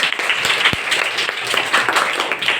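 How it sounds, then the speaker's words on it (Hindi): Applause from a gathering of schoolchildren at a Saturday road-safety session at a primary school, a steady clatter of many hands clapping close by for the whole stretch with no voices over it. "ताली बजा दीजिए"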